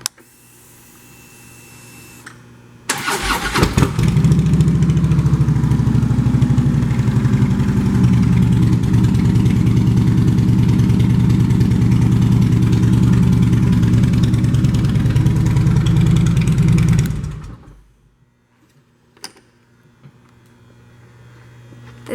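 2013 Harley-Davidson Electra Glide Classic with a V-twin engine starts up and idles loudly and steadily through its pipes for about fourteen seconds, then shuts off into near silence.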